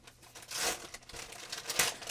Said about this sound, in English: So cut this tape here.